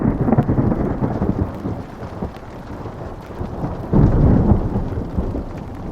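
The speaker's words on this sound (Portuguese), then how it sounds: "Ainda estava escuro lá fora e eu podia ouvir atentamente a chuva caindo." Heavy rain falls on a tent during a thunderstorm, a steady hiss under deep, rolling thunder that swells again near the end, with no voices.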